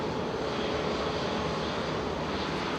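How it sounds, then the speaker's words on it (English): Airliner landing at Manchester Airport, a steady, loud broadband jet roar that holds constant throughout with no pauses, heard alone without any voices. "Nice landing, Ken, if it was yours."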